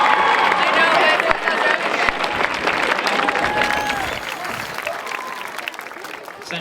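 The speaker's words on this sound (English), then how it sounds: "Applaud each band, please." A stadium audience applauds high school marching bands at a halftime show, broad sustained clapping and crowd noise that gradually thins out, with a voice faintly audible beneath.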